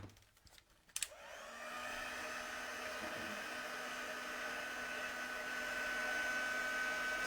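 A heat tool switches on with a click and blows a steady, loud whirring stream of hot air onto a spring card, close by and continuous.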